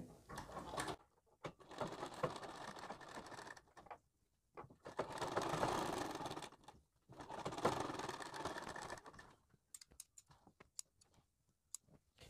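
A sewing machine stitches along a shaped blouse back neck, running in several faint mechanical bursts separated by short pauses and a few isolated ticks.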